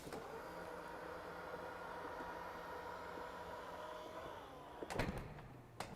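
A powered tailgate on a Range Rover Sport runs with a steady electric motor whine under a low hum, ending in a couple of sharp clunks as it latches near the close.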